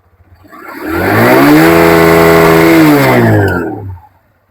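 A TVS Apache RTR 160 2V motorcycle is revved once near the exhaust: the engine note climbs, holds a loud, buzzy sustained rev for about two seconds, then falls back to idle and silence.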